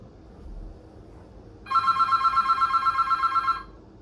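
A telephone rings in a steady electronic warble, one continuous burst of about two seconds over quiet room noise.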